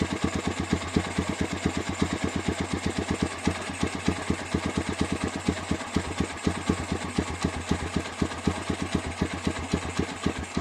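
A motorcycle engine with a 28 mm carburetor runs steadily at a close, even idle during carburetor adjustment, its rapid rhythmic putter continuing throughout without any talking.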